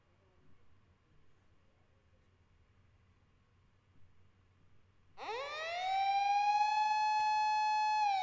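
After several seconds of near silence, a police siren in the video game Fate/stay night starts abruptly, rising and then holding a loud, steady wail.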